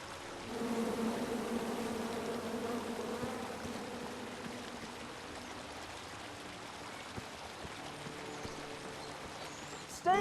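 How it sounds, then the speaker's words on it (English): A swarm of bees buzzes in the fantasy adventure game King's Quest, a low, wavering drone that is strongest at first and then thins out over a soft ambient bed. "Come at me, bees!"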